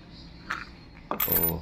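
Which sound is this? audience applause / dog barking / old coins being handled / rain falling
old coins being handled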